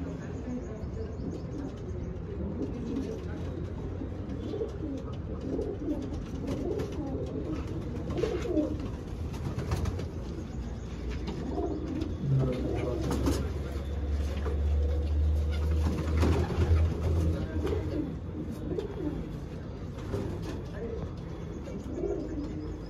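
Flying pigeons coo softly and repeatedly close by, low burbling calls with occasional chirps mixed into a busy background.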